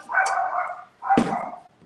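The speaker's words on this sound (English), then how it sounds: "This damn dog is gonna drive me nuts." A dog barks loudly and close by in two drawn-out, slightly whining bursts, each lasting nearly a second, with a short pause between them.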